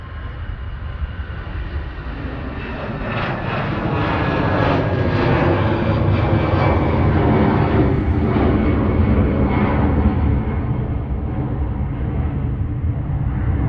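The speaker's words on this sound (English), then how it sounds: "Thankful EasyJet GZTA flight 2043 up to Verona." An EasyJet airliner, registration G-ZTA, departs Manchester Airport on its flight to Verona, a loud, continuous jet engine roar that builds and holds steady throughout, heard alone.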